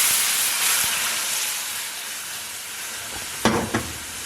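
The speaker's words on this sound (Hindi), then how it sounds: "अब इसमें डाल दूंगी 1 गिलास दूध" A glass of milk is poured into a hot pan of fried all-purpose flour, raising a loud, continuous steamy sizzle and hiss that slowly fades, with two brief stirring knocks near the end.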